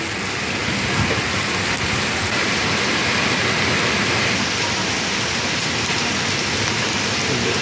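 Hail pelts down on grass in a forest setting during a storm, a dense, steady broadband patter that holds at an even loudness throughout with no pauses.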